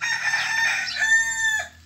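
A young red rooster crows once, close and loud, with a strained, harmonic cock-a-doodle-doo lasting under two seconds that ends abruptly, with no talking over it.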